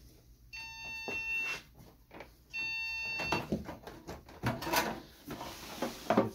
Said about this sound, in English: we just got some crazy beep code